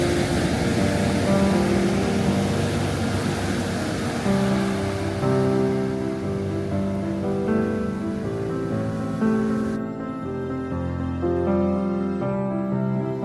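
Waves washing onto a beach in Trivandrum, a steady broad surf rush that continues throughout, with faint music in the background.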